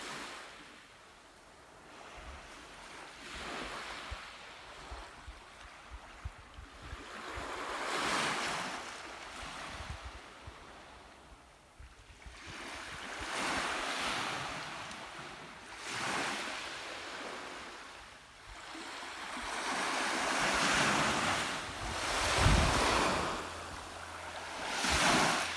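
Sea waves wash onto a sandy beach where pebbles have been swept away, each surge rising into a loud rushing roar and then receding, repeating in slow swells with some wind noise.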